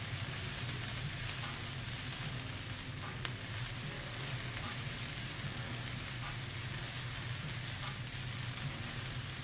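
Onions sizzle in a skillet as they start to brown for enchilada rice. A quiet, even crackling hiss continues throughout, close and alone, with no talk.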